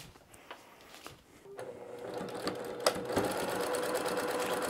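Sewing machine stitching fabric pieces for an appliqué still life, starting with a few faint handling sounds and then running as a steady, close whirring hum that continues to the end.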